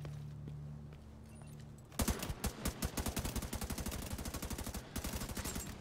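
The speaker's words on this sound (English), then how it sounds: "I like the feel of the guns." Rapid automatic gunfire from guns in the video game The Division 2 erupts after a quiet stretch, a steady rhythm of loud close shots firing in quick succession.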